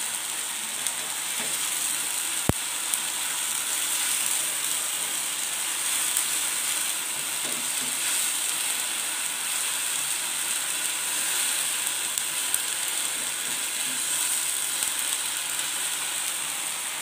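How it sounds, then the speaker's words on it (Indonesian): Blended chili paste sautéing in hot oil for spicy chicken feet, a steady bright sizzle and fine crackling spatter running evenly throughout, close and fairly quiet, with a single sharp click early on. "Nah kita masak sampai percikannya itu hilang, artinya airnya sudah menyusut."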